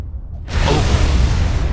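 A base blows up in Supreme Commander 2, a sudden loud whooshing boom that swells after a brief quiet and then holds as a broad, sustained rumble.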